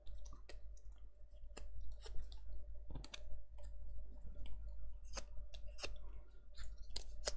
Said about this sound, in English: I'm just going to curl these with my bone folder.